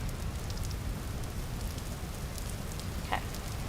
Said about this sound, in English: It's frickin' raining!